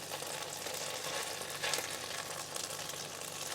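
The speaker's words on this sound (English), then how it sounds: "now we're just letting these gnocchis cook for a little bit" Gnocchi fry and brown in a pan with a loud, continuous sizzle. A brief stronger crackle surges near the middle, with no talking.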